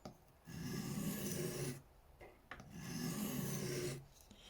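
A hand tool blade is rubbed along a sharpening stone in long, steady rasping strokes, two main passes with a brief scrape between, close and moderately loud.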